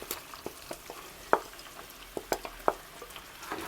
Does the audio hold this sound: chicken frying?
yes